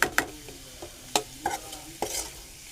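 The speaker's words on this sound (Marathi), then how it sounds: "कांदा टोमॅटो शिजला का" Onion and tomato sauté in a pan, a soft sizzle broken by sharp spoon scrapes and clacks at irregular intervals, close and fairly quiet, with no voices.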